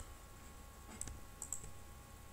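Computer mouse right click during document editing, a few faint sharp clicks around the middle, quiet and close, with no talk.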